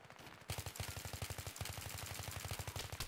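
Rapid full-auto hip fire from an M416 assault rifle in Battlefield 3, a dense, steady stream of loud close shots starting abruptly after a brief quiet moment and running continuously to the end.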